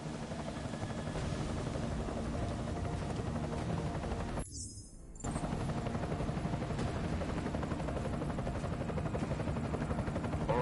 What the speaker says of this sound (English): Enemy helo sighted.